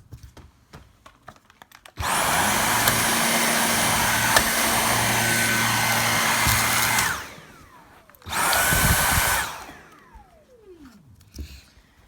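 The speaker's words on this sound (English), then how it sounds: "Now let's just hoover it up." A vacuum cleaner hoovers up the debris and magnets from a destroyed 2.5-inch hard drive, with a loud, steady motor whine that runs for several seconds, spins down, then starts again briefly and winds down once more.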